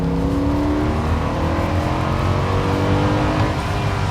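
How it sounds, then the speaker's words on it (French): A Mercedes C63 AMG accelerates hard in third gear while taking a corner at speed. A loud, close engine drone climbs steadily for about four seconds under wind and road noise. "Tu vois, là, j'ai accéléré en 3e"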